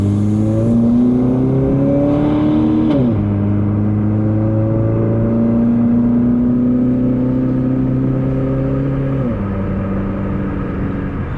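A 2007 Chrysler PT Cruiser Limited with some modifications, its engine loud and close as it pulls through the gears while driving on a road, pitch rising then dropping at each shift, with no full-throttle pulls.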